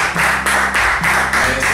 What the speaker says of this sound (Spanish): Un aplauso, le damos un aplauso.